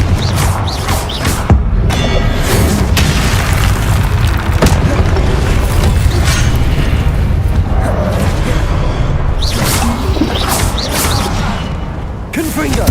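Confringo fire spells blasting in the Hogwarts Legacy video game, heavy booming impacts and crashing bursts repeating over a dense, loud rumbling battle bed, with the caster's voice calling out between blasts.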